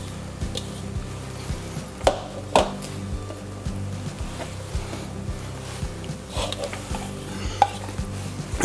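A spoon stirs beer cheese sauce in a pan, with a soft continuous scraping under scattered sharper clinks of utensil against the pot and faint sizzling.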